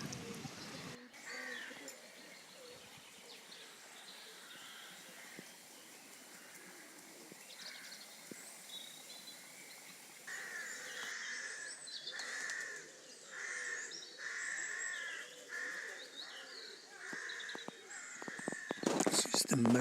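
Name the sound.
seagulls calling around a fishing boat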